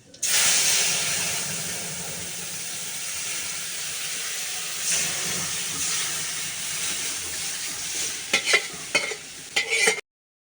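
Cumin seeds dropped into hot oil crackle and hiss in a steady, bright sizzle, close by, ending in a few sharp clattering stirs of a utensil before it stops abruptly.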